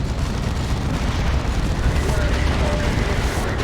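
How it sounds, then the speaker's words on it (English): A missile strikes a Land Raider Phobos tank in a Warhammer 40,000: Dawn of War 2 battle, producing a loud, dense rumbling blast that stays thick and continuous for a few seconds. "Takes a missile hit."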